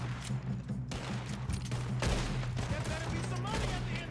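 Shotgun blasts ring out during a train-robbery shootout in Red Dead Redemption 2, loud, dense gunfire bursting over a steady low hum, with brief talk mixed in.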